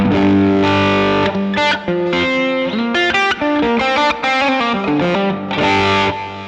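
An electric guitar through a Boss ME-90 multi-effects overdrive plays loud, heavily overdriven chords and riffs with a gritty, distorted tone. Short gaps separate the phrases, and there is no talking.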